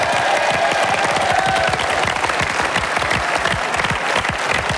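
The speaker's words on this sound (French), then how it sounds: "Quelques applaudissements pour nos deux équipes fort sympathiques." Dense, sustained applause from a 1996 French television game-show studio audience, loud and continuous with a faint cheer rising briefly, no gaps across the whole stretch.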